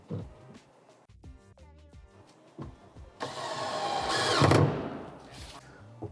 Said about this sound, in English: go ahead and grab your drill and your screws, and you're gonna go ahead and just start installing these wood screws onto this panel